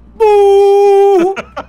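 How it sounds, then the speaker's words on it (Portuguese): In Call of Duty Warzone, a car horn gives one loud, sustained honk of about a second, followed by a few brief voice-like sounds. "Você sabe como é a buzina do meu carro?"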